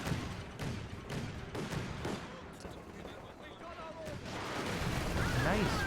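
Rocket fire and explosions in Company of Heroes 2, with heavy booms and rumbling artillery-like blasts in a dense, rolling barrage that builds toward the end amid chaotic battle noise.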